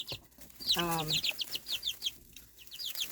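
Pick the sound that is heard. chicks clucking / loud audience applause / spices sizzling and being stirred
chicks clucking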